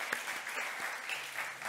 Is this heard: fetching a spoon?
no